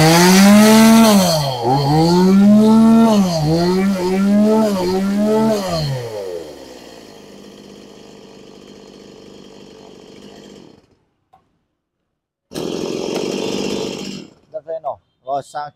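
A Japanese chainsaw runs loudly up close, revving up and down in repeated surges, then settles to a steady idle, cuts out and restarts briefly.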